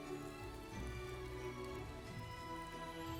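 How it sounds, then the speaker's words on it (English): Steady rain falls in the farming sim My Time at Sandrock, a continuous dense patter with music-like tones laid over it, even and fairly loud throughout with no talking. "It's raining! It's the world's biggest sprinkler!"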